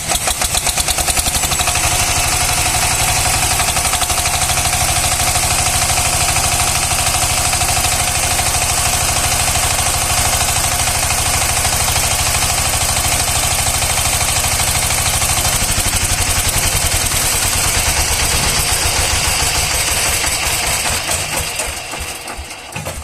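A second-hand DF power tiller with its original engine runs close and loud in a steady, rapid chugging idle that continues throughout and eases off right at the end.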